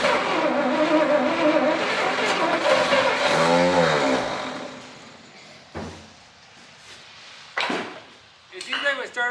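A 1959 Studebaker Lark engine that has sat for 36 years runs loudly on starter fluid for several seconds, revving with a broad roar, then dies away and gives a few short coughs and sputters as it tries to fire again.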